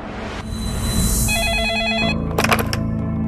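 A telephone rings with a repeating electronic trill for a few seconds before it is answered, set against a low room hum and a brief burst of higher noise near the end.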